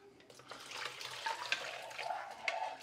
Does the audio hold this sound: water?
yes